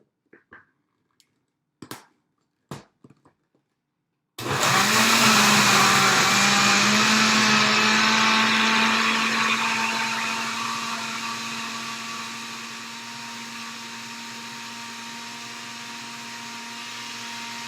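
A blender whirs loudly, blending a green smoothie with pear, after a few soft knocks and clicks; the motor starts abruptly, runs steady and strong, then eases to a slightly lower, sustained hum.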